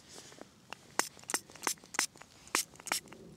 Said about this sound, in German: jetzt zum einen sprühe ich jetzt mal kräftig den Korb ein mit meinem Spezial-Rotaugenspray